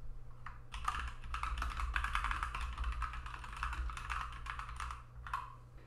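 Text is typed on a computer keyboard in a fast, continuous patter of key clicks that pauses briefly at the start and near the end, close and moderately quiet over a low steady hum.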